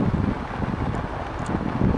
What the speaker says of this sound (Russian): Ветер, наверное, сильный задувает.